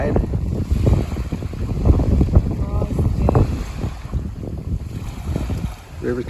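Wind gusts buffet the microphone at the water's edge during a small pram sailboat trial, a steady low rumble with lapping water, running continuously throughout.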